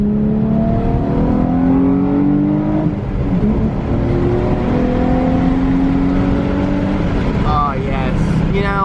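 A Nissan 350Z's engine pulls hard from close by, its note climbing steadily, dropping at a gear change, then rising again; a voice speaks briefly near the end.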